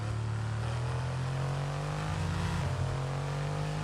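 A Formula 1 car in a racing game brakes into the final corner, its engine note droning loud and steady with a slight upward pitch bend before easing, with no voices present.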